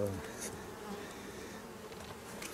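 Steady low buzzing of many honeybees close by at the entrance of a small nucleus hive, a continuous hum with individual bees droning past.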